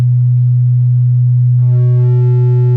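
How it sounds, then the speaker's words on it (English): A loud, steady low synthesizer sine tone hums on, then turns buzzy and harsher partway through as it gets clipped, with no voices. "So, I've got my simple sine wave."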